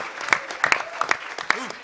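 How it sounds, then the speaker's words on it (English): Scattered audience claps for Hack Toronto at The Last HOPE hacker conference in 2008, sharp separate hand claps spread over a couple of seconds with voices talking among them. "Give them a big round of applause."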